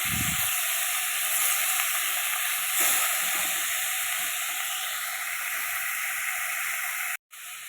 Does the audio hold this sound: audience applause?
no